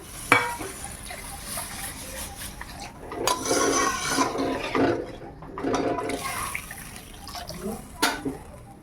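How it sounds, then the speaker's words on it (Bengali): Water poured into a pan of sour fish curry with soaked dried mango powder, a close splashing and gurgling pour in a few bursts over quiet kitchen background. "এবার আমি জল দিয়ে দেব"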